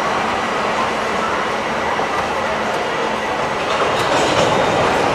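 The 13509 Asansol Gonda Express runs along the rails in a loud, continuous rumble and roar, with a faint wheel squeal near the end.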